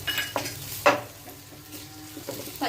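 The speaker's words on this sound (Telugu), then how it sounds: "ఇప్పుడు మనం అల్లం వెల్లుల్లిపాయ పేస్ట్ వేసేద్దాం" Ginger garlic paste frying in a pan with browned onions while being stirred, with a steady sizzle under scraping spoon strokes and a few louder clinks of utensil against the pan.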